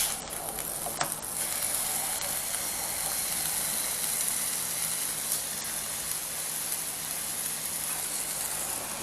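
Pork chops browning in a hot pan, a steady broad hiss of frying fat that holds evenly throughout, with a couple of faint clicks early on, close and without talk.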